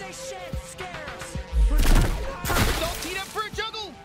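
A grenade explodes in the sci-fi shooter High On Life as a loud, heavy boom with a rumbling, debris-like tail, followed by scattered smaller impacts, while someone talks over the game sounds.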